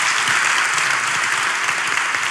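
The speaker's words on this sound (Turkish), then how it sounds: "Koca alkış hocamıza." Studio audience applauding a teacher on a Turkish talk show, a dense, steady burst of clapping heard alone for a couple of seconds.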